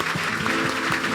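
A church congregation claps during a sermon, brisk and continuous throughout the short moment, fairly close and alone without speech.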